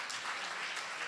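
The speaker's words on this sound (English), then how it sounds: "And keep your hands clapping." A forum audience applauds steadily and loudly for a 60-year-old grandmother who was valedictorian at Cheyney University, a dense, continuous wash of many hands clapping that holds throughout without a break.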